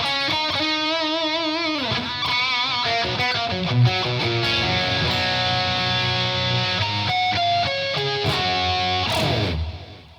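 Enya Inspire electric guitar on a lead preset, delay and reverb audible on the sustained notes, playing a loud melodic line with bends and held tones for about ten seconds, then fading into the trailing echo at the end.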